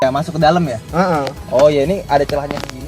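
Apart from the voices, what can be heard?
No distinct noise like a dog, phone or traffic.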